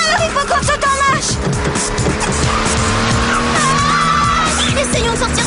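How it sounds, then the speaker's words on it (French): A car skidding out of control, loud continuous tire squeal and scraping over engine noise, with a voice speaking briefly underneath. "c'est pas moi, c'est la voiture. J'arrive plus à la contrôler."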